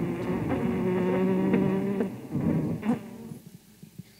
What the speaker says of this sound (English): And this is the sound of a sick colony.